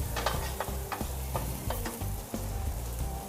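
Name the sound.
food browning in frying oil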